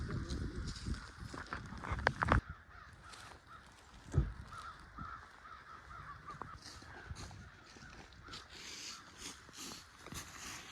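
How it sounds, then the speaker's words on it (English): Crows caw repeatedly around a ranch campsite in Whitney, Texas, in loose, irregular calls at moderate distance, over outdoor background noise with a couple of sharper knocks and handling sounds. "You see all the birds."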